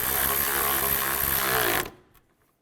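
A power tool runs steadily at close range, tightening radiator mounting bolts on a 2002–2009 Chevy Trailblazer, with a sustained whirring drone that stops abruptly, followed by faint clicks.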